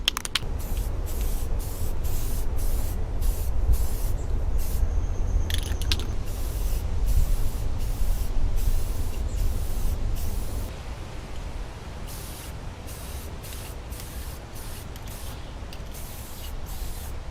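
Spray paint applied to parts of a vintage Hazet 166N Assistent tool cart in a rapid series of short, even hissing bursts, loud and close, softening slightly toward the end.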